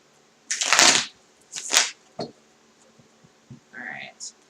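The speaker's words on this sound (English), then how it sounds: "just a couple more shuffles here." Close-up riffling of a tarot deck in a few quick bursts, followed by softer handling sounds and a brief murmur.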